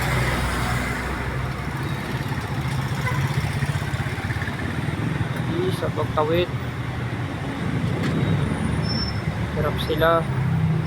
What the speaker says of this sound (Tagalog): grabe traffic dito sa Rockwell to Barangka Drive pag Sunday